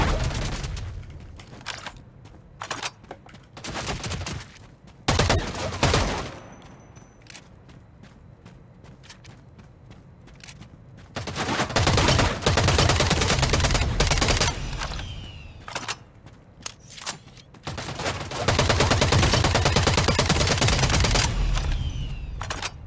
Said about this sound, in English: Maybe I should just keep firing.